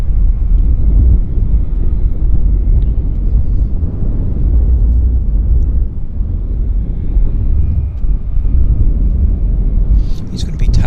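An Airbus A319 jet airliner at Vancouver airport gives off a low, steady rumble at a distance, with people talking quietly over it.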